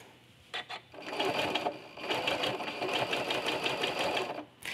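A sewing machine with a walking foot stitches quilted curves in close, rapid mechanical bursts, with a brief stutter of stitches followed by a longer continuous run and short pauses between.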